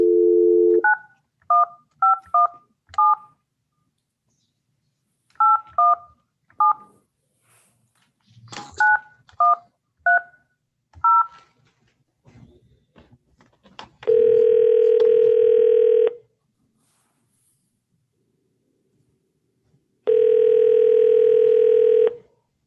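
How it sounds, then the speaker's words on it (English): Telephone keypad dialing, with several quick bursts of paired touch tones, followed by two long, loud ringback tones separated by a pause, all clear with no talking. "I'm going to call her on the phone."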